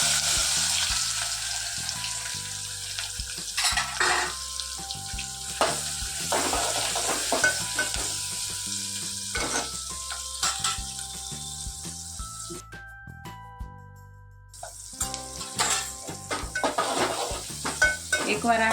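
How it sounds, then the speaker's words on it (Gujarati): Chopped onions fry in oil seasoned with asafoetida (hing) as a spoon keeps stirring them in the pan. A steady sizzle runs throughout, with scraping strokes, utensil clinks and a faint tonal background. "હવે ગેસ ધીમો કરીને ડુંગળી નાખી દેવાની।"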